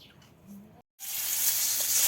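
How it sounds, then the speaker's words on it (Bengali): Fish coated in turmeric, salt and chili sizzles in hot oil, a soft quiet hiss that cuts out briefly and then returns as a loud, steady frying crackle. "মাছগুলো আগে হলুদ, লবণ, মরিচ দিয়ে ভেজে নিচ্ছে।"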